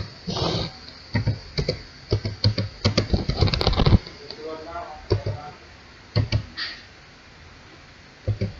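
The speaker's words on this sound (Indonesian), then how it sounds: "Kita ketikkan script berikut." Someone types a JavaScript script on a computer keyboard, with bursts of close, quick key clicks and taps separated by brief pauses.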